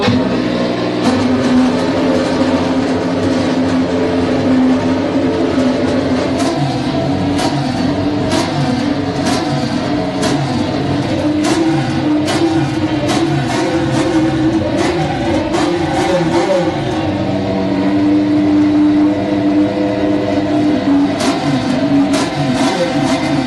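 A new McLaren race car engine fires up and revs repeatedly, a loud, close, continuous roar with surging throttle blips over a rough idle.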